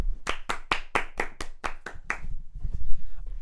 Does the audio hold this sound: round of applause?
yes